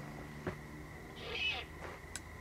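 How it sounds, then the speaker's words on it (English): An owl hoots in a forest at night, with two or three faint, distant calls spread across a quiet, low-level background hum. "I believe that's an owl."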